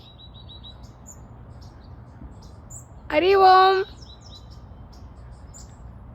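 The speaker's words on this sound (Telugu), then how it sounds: "పక్షులు చూశారు అక్కడ, కిలకిలా చెప్తున్నా" Birds chirp faintly in the background at first, then one loud, bright, warbling call bursts out for under a second in the middle over a steady low hum.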